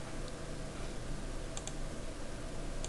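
Someone typing PLC code on a computer keyboard: quiet, scattered key clicks under a steady hiss of background noise, with a few sharper taps near the middle and end.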